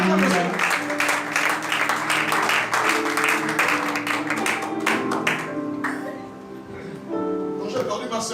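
A church congregation applauds in a steady, sustained wave of clapping, with voices and sung or spoken praise running through it, dipping briefly before swelling again.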